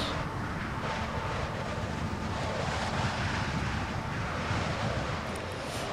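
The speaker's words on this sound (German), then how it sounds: "Hier geht ein Wind." Wind gusts steadily across a rooftop in the shooter game F.E.A.R., a continuous broad rushing roar that stays loud and even from start to finish, with no voices over it.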